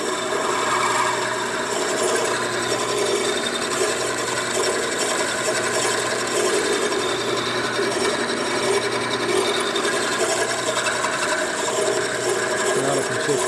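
Intermittent cutting chatter from a tool working on Willys Jeepster front suspension parts, a steady scraping, ratcheting grind that pulses between cutting and non-cutting, moderately loud and close with no talk.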